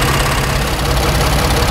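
Loud and close, the engine of a 2015 Ford Transit van runs with a misfire, a steady rough idle with an uneven, knocking undertone and no speech.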